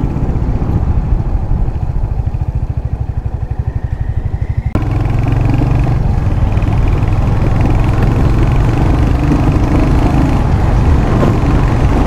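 A 2025 Royal Enfield Hunter 350 single-cylinder motorcycle exhaust, loud and close, a rapid thumping idle that jumps to a fuller, steadier roar as the throttle opens and holds.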